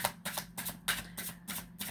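Oracle cards shuffled by hand in a steady rhythm of riffling bursts, close and fairly quiet, with no voices.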